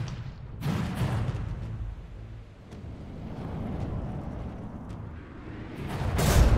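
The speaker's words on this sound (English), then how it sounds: "So now we're firing cruise missiles, which will take a moment to actually start to lock on." Cruise missiles launching in the From The Depths game, a sustained rumbling roar of rocket exhaust and booming bursts, swelling loud near the start and again at the end.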